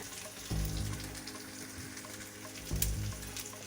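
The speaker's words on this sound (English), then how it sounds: "Chili is getting roasted." A whole chili roasting in a hot pan gives a steady, close sizzle and crackle, with brief louder bursts of frying as it shifts, and no voices.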